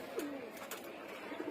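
Racing pigeons at a loft coo softly in low, soft bursts, while light chirps and faint background noise come through at a moderate distance.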